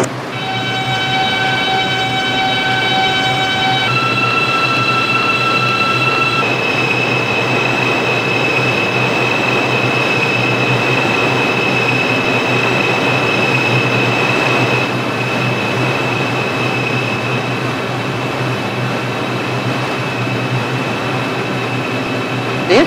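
Simulated New York subway line 6 local train running in the Subway Simulator mobile game, a steady loud rumble with sustained tonal whines shifting in pitch, heard alone without voices throughout.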